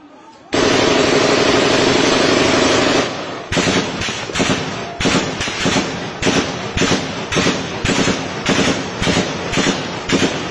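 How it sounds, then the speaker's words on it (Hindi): Gunfire at night with heavy weapons, a long continuous roar of shooting followed by rapid repeated bursts and cracks, loud and close. "उसके अंदर आपको बाकायदा गोली चलने की आवाज़ सुनाई देगी"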